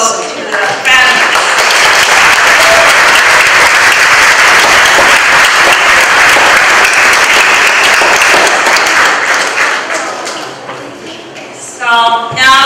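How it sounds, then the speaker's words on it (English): Loud, sustained applause from a church congregation at a Sunday service fills most of the stretch, then tapers off, with a voice speaking briefly at the start and end. "So let's give another round of applause to the families."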